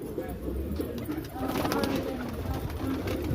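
Pigeons coo in low, throaty, repeated bursts close by, while people talk over them.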